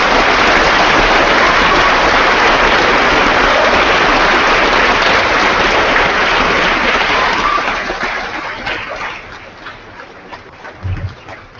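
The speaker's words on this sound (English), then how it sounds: "Students, let's give these heroes a round of applause." Students applaud visiting Canadian Olympians at an Edmonton school, a loud, dense, sustained wash of clapping from a large crowd in a hall that gradually tapers off near the end.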